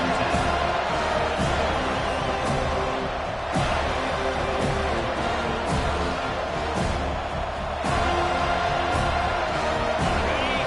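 A stadium crowd at a football game roars continuously, a dense loud wash of cheering with brief surges throughout.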